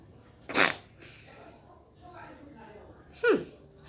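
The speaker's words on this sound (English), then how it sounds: "I'm gonna sneeze again" Two sharp, close sneezes a few seconds apart, with quiet breathing in between.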